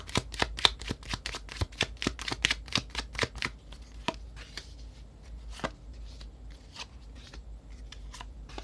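A deck of tarot cards is shuffled during a reading, with a quick series of close, crisp riffling snaps that thin out into scattered soft taps and card handling.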